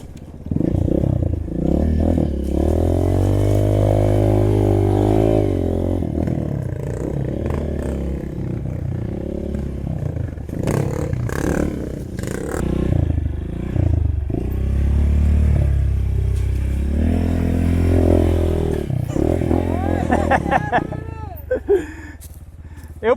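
A motorcycle climbs over rough terrain near the village of Novo Paraíso in the Xingu, its engine revving and rising and falling loudly with clattering and scraping, while voices are heard at times.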